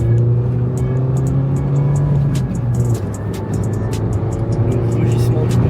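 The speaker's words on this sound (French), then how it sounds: "Le rugissement du moteur." Car engine running loudly nearby with a steady low rumbling drone and slight pitch shifts, with sharp clicks and people talking over it.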